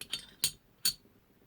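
A Glock pistol barrel drops into its slide during reassembly, giving three crisp, close metallic clicks and clinks spaced a few tenths of a second apart, with near silence around them.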